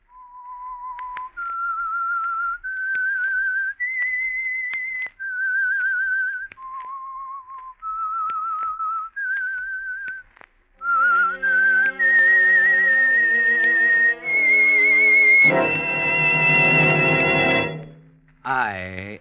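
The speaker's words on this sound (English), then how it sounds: "That whistle is your signal for the Signal Oil Program" The opening theme of the radio mystery program The Whistler: a clear solo whistled melody of steady sustained notes, followed by a loud orchestral swell carrying the same tune.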